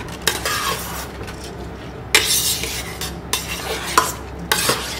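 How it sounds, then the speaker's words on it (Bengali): Rice is stirred with spices in a rice cooker for ilish pulao, a spoon scraping and clinking against the pot in repeated close strokes over a soft steady sizzle. "চালটা দিয়ে আমি ভালো করে মশলাটার সাথে চালটাকে আমি নাড়িয়ে চাড়িয়ে নিচ্ছি।"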